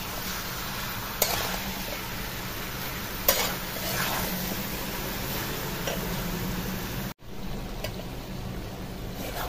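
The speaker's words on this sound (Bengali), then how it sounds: "তো নুন হলুদ দিয়ে এখন আবার নেড়ে নিচ্ছি।" Chicken with salt and turmeric sizzles steadily in a pan over a clay stove while it is stirred, with a few sharp utensil knocks. The sizzle cuts out abruptly near the end, then resumes more quietly.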